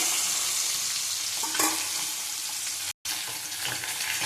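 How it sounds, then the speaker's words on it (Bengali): Potato pieces with turmeric and salt fry in a pan with a constant close sizzle and occasional stirring scrapes. A brief dropout falls near the end. "আলু ভাজা হয়ে গেছে।"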